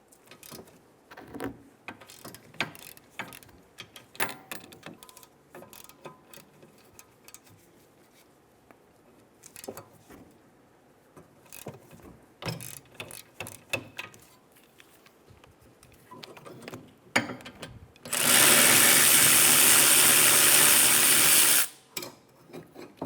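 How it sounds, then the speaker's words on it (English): Caliper bracket bolts on a 2013-2017 Honda Accord rear brake being loosened with a 17mm wrench: scattered close metallic clicks and clanks of the tool on the bolts, then a few seconds of steady loud noise near the end. "Using a 17mm, remove the bracket bolts."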